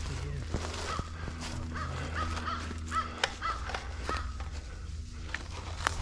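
A hawk calls outdoors during a hog hunt with several sharp cries spread over the clip, mixed with rustling steps and scattered knocks in the surroundings.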